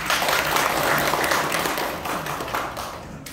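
Audience applause at a nonprofit association's founding general meeting, a full burst of clapping that is loud at first and then slowly thins and fades toward the end.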